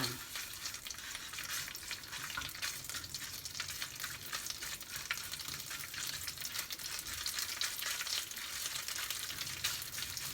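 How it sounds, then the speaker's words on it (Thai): Curry paste for a crispy fried swai fish chu chee sizzles and fries steadily in a little oil in a wok, a continuous dense crackle with faint stirring scrapes and no talking. "ผัดให้พริกแกงเราหอมก่อนนะคะ"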